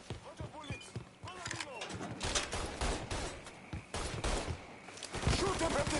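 Gunfire from the video game Mafia III comes in short bursts of several sharp shots, mixed with game character voices shouting and grunting over the action.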